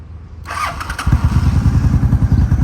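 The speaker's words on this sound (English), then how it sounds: "So we're gonna start the bike up." A 2003 Honda Shadow motorcycle engine, in neutral, cranks briefly, then catches and settles into a steady, throbbing low idle, close and fairly loud.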